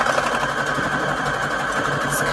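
A sewing machine runs a decorative stitch, number 59, on fabric stitched onto index cards, giving a steady, fast mechanical whir with rapid needle ticking, close and fairly loud throughout with no talk.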